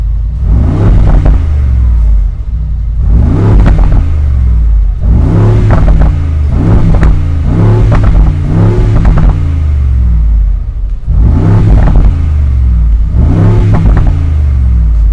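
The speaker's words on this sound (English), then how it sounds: "Beautiful BRABUS V8 with the BRABUS exhaust mounted." A loud BRABUS V8 engine with BRABUS sport exhaust in a Mercedes-Benz G-Class revs repeatedly in sharp bursts, each blip rising and falling with a deep, throaty exhaust rumble and no voices.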